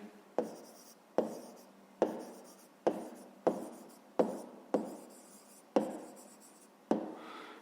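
A pen scratches out the answer to a fifth-grade math exercise on paper in a series of about ten short, crisp strokes, each a quick scratch that fades, spaced at an uneven rhythm, close and clear with no talk.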